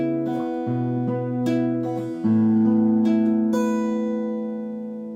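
Guitar in standard tuning plays the second block of a song intro, a sequence of plucked notes and ringing chords that sustain and decay, heard close and alone.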